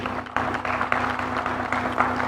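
Applause from an audience at an African local content investment forum on the oil and gas industry: a dense, steady patter of many hands clapping at a moderate distance, continuing evenly with a low hum underneath.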